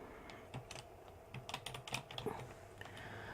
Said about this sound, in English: Click on the box and you type in whatever you have named your channel.